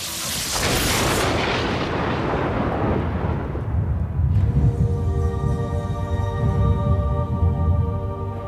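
Lightning strikes set off thunder that rolls as a loud, deep, continuous rumble for several seconds. Sustained musical tones come in partway through and play under the rumble.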